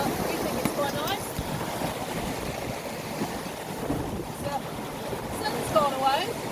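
A sailing boat rushes fast through flat sea at about eight knots, with a steady wash of water and wind noise throughout and occasional faint creaks.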